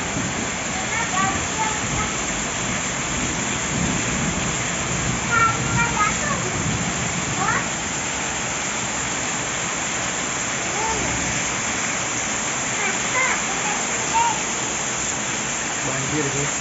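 Floodwater rushes in a constant roar through a heavy rainstorm, a broad, steady wash of water with scattered voices calling over it now and then.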